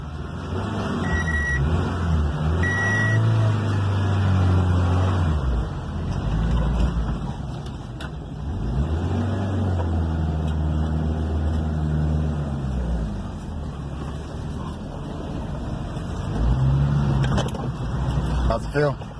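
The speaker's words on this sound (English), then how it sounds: "And then we're going to go take it on the test drive." A 1986 Honda Civic wagon out on a test drive after a head gasket replacement, its engine and road noise droning steadily throughout, rising and falling with gear changes, while people talk over it inside the car.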